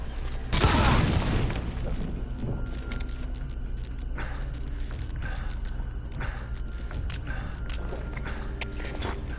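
A single loud boom of an explosion from the Metal Gear Solid V video game bursts out early, then fades into a steady game ambience of clanking mechanisms and faint footsteps.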